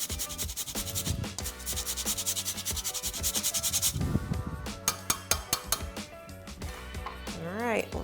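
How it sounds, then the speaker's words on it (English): Fresh ginger is grated by hand, giving steady rasping scrapes in repeated strokes over a busy background with music-like tones, fairly close and moderately loud. "And then we will grate in some fresh ginger."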